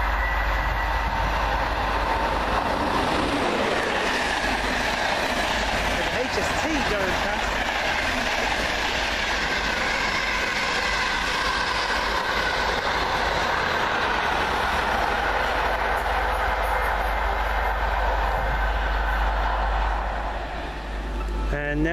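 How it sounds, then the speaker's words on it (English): Class 91 locomotive 91110 leads a northbound East Coast passenger train past, a loud, sustained roar of traction and rolling wheels with faint rail clatter throughout, close by and steady. "Comes 91110, leading the East Coast Service northbound."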